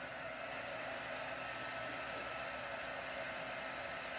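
A heat gun blows steadily and loudly while melting embossing powder for a stamped card, a constant broadband roar that fills the whole clip without pause.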